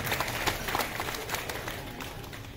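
Applause from a crowd of party guests at a baptism celebration, a dense, steady patter of many hands clapping that stays fairly loud and even throughout, with a little background chatter mixed in.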